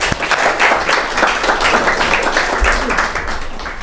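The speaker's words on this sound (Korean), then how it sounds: "자, 박수." A church congregation breaks into applause during a sermon, with many hands clapping at once in a loud, close, continuous burst that holds steady to the end.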